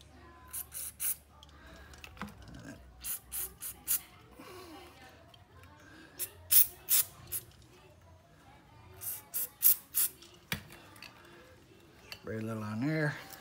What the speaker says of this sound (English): Spray a little on there, arc it back and forth.